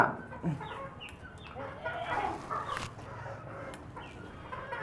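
Fancy rooftop-kept chickens cluck and squawk in a restless, aggressive bunch, a few sharp calls standing out over softer chatter at moderate distance, with faint background noise and no talk.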